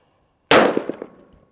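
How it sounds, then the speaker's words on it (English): .50 caliber rifle shot striking a ballistic helmet at an outdoor range, a single sudden loud crack with a metallic clang that rings and decays over about a second. "we're about to shoot this helmet with the 50 cal"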